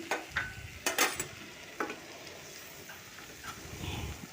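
A few sharp clinks and thuds of fried jackfruit tipped into a pan of gravy, followed by a soft, low bubbling sizzle.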